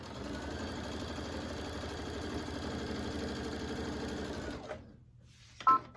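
A sewing machine stitching binding on an alphabet panel quilt, a quiet steady mechanical whir with rapid needle rhythm for several seconds, then stopping, followed by near silence and a small click.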